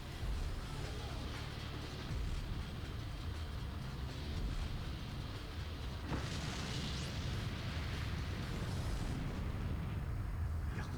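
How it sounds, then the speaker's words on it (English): Loud, continuous rumbling blasts and booms from a video game trailer fill the whole stretch, with a brighter burst of crashing debris about midway and steady heavy noise throughout. "Why is there explosions everywhere?"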